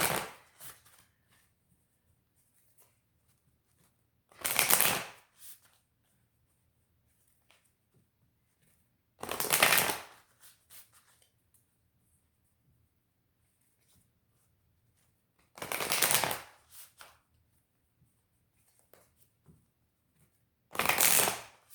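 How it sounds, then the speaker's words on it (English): Oracle cards are shuffled in four short bursts of rapid riffling, each separated by several seconds of near silence, close and crisp. "I do like to shuffle a few times on camera so you can see"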